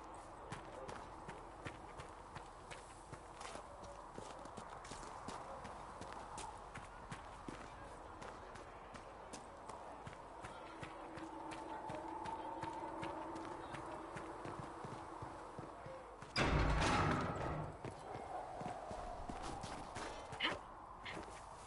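Horse hooves clip-clop at a steady walking pace in the fantasy game Dragon Age: Inquisition, set in the village of Haven. The footfalls run continuously over a soft ambient bed, with a brief louder rush of noise near the end.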